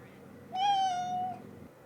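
A cat gives a single clear, drawn-out meow of about a second, close by over a quiet room background.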